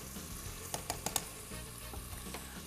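A sliced lemon, with peel and seeds, being stirred into a pot of Konya-style okra soup. A few quick utensil knocks against the pot sound over a soft steady simmering sizzle.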